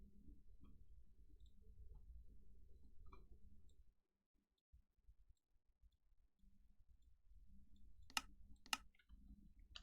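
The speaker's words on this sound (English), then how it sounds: "I don't want you guys to be able to hear me clicking like that." A computer mouse gives two sharp, close clicks in quick succession during a PC gaming session, after a stretch of faint low rumble and near silence.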